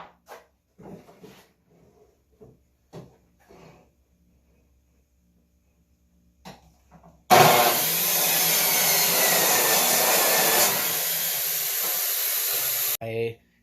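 Power saw cutting wood boards to 36-inch lengths for the back legs of an inexpensive DIY Adirondack chair, a loud sustained whine of about six seconds that starts abruptly after a quiet stretch of scattered soft handling noises and ends abruptly.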